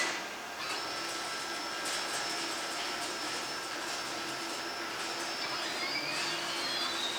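A discount plasma cutting table runs steadily, giving a continuous broadband hiss and whine with faint rising and falling tones, loud and close with no talk over it.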